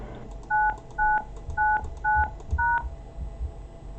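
Five short two-tone telephone keypad beeps sound evenly spaced and clear over faint background hiss as a prompt ID is entered on a phone system.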